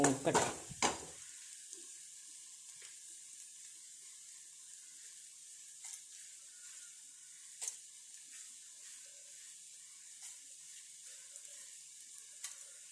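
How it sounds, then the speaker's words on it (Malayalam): Crushed ingredients for a prawn dish fry in oil with a faint, steady sizzle, broken by a few soft clicks and scrapes of stirring. "ക്രഷ് ചെയ്തെടുത്ത് അത് ഈ എണ്ണയ്ക്കകത്തേക്ക് ഇടാം"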